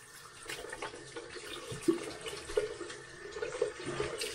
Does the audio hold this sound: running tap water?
yes